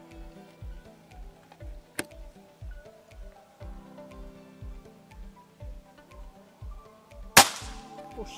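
A Bocap FX Royale 500cc PCP air rifle fires two sharp, snappy cracks, the second louder with a short hiss, over a quiet background of rhythmic low thuds.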